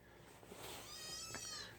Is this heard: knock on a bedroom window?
no